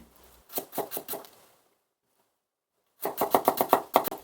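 A knife julienning radish into thin matchsticks on a cutting board, making two bursts of rapid, even chopping taps separated by a quiet pause, close and crisp with no talking.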